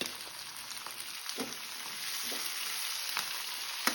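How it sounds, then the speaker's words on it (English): Tomato and capsicum fry in a pan over a low flame, giving a continuous close sizzle with occasional soft stirring scrapes. "Now add the tomato and capsicum."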